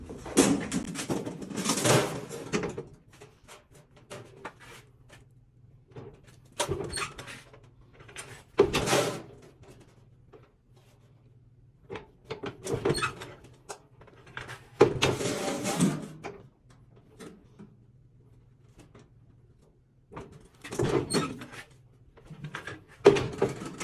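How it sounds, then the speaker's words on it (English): A sheet metal brake folds a fabricated HVAC spacer. Separate metallic clanks and thumps of the brake closing and bending come in bursts, with quiet gaps and a low hum between them. "put the 1 inch into the brake, fold it straight up, the 4 inch"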